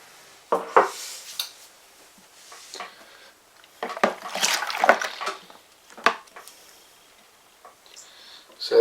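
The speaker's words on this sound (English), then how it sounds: "And I'm going to rinse the malt from there." Hot tap water rinses leftover malt extract from a tin during homebrewing of a brown sugar lager, with intermittent splashing and clattering of metal in irregular bursts and a few quiet gaps.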